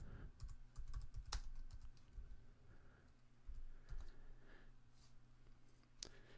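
Soft, quick typing on a computer keyboard, a short run of light key clicks with one sharper tap, quiet and close in a calm room.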